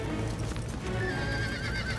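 A horse whinnies loudly in a cartoon amid a camp fire, a rising and falling cry over the steady clatter of hooves, close and continuous for about two seconds.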